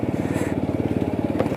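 A TVS Apache RTR 200 4V BS6 motorcycle is parked at a service center, its engine giving a close, steady, throbbing idle with rapid even pulses throughout.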